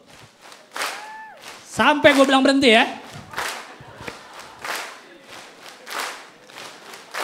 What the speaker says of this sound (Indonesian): boleh minta gue tepuk tangannya? Eh, tepuk tangannya gini